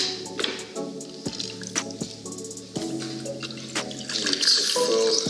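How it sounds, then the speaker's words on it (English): A cocktail poured through a cocktail strainer over a scoop of ice in a glass, close trickling and splashing liquid with clinking ice, bright drips and small knocks throughout, no talk. "we're going to strain this mixture out over there using the cocktail strainer"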